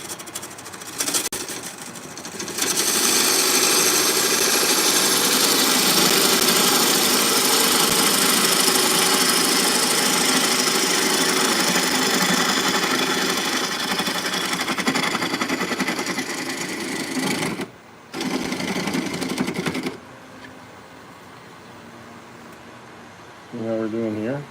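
Wood spinning on a woodturning lathe under a sharp cutting tool, a loud, continuous droning whir with a steady cutting hiss, brief pauses near the end, and someone talking over it.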